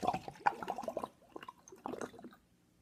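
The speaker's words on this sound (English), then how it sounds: "So really pour the water here and see what happened." Colored water poured into a glass, a short soft splashing trickle in two bursts with a brief pause between, quiet and close, fading out at the end.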